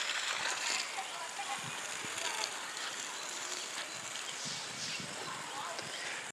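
Water splashes and flows in a park at Mettur Dam, a steady hissing rush with scattered light splatters, ending in a sudden loud burst.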